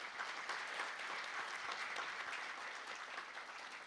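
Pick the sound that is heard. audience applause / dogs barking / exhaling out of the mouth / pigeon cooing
audience applause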